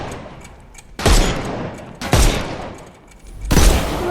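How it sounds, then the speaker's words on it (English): Gunfire in the video game Sherlock Holmes Chapter One, three loud, close, booming blasts with roughly a second between them, each trailing off into a rumbling decay. "Shoot off their armour."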